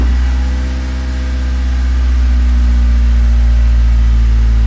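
A Honda Del Sol's D16Z6 engine runs at a steady idle, a loud, even low hum with strong harmonics holding constant throughout, with no voices over it.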